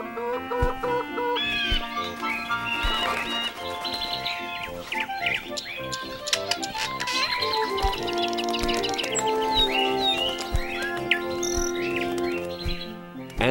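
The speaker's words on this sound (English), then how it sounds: "and more birds." Cartoon birds from The Beginners Bible creation story chirp, tweet and cluck in quick, busy bursts, mixed with chicken-like calls and layered over steady background music, with no talk.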